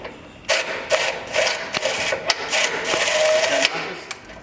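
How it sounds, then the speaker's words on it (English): Centre bolts on a Rockarmor Troopy wheel carrier being tightened, heard up close as a run of short mechanical whirring bursts with brief pauses between them, with no talking. "I'm going to go ahead and tighten up the centre bolts"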